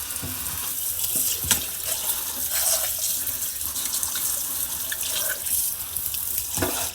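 Tap water running steadily into a sink for the final rinse of a freshly butchered chicken, a continuous splashing stream with occasional sharper spatters as the bird is moved under it, close and alone.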